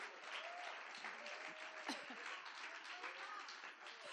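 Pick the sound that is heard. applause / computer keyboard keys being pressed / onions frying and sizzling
applause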